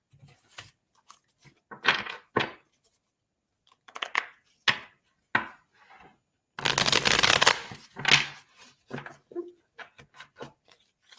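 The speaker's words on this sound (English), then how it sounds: "we're going to pull some cards for you" Tarot cards being shuffled by hand for a reading: repeated crisp riffles and quick flutters in short bursts, one longer sustained riffle in the middle, close and clear, with no talking.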